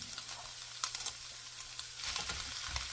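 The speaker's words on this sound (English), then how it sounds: "now that that's warmed up, I think it's time to enter the rice" Rice sizzling and crackling as it goes into a hot pan for pork fried rice, a steady dense frying hiss with small stirring clatters, growing slightly louder partway through.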